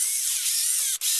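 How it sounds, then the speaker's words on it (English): An electric drill whirring steadily as it bores a mesh of drainage holes into a plastic worm bin, a continuous high-pitched grinding with one brief pause near the end. "I am attempting to drill a mesh of holes in there so that it has better drainage."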